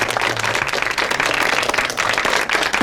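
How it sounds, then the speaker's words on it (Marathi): Dense, continuous clapping from a crowd welcoming a person at a school alumni get-together, fairly loud and unbroken for the whole short stretch. "सगळ्यांनी टाळ्या वाजवून स्वागत अभिनंदन करायचे ऐश्वर्याचे."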